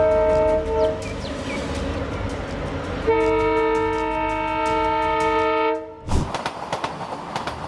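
A train rolls along the railway under a long, sustained horn blast that shifts pitch partway through, then cuts out into rattling wheel clatter as the cars pass close by.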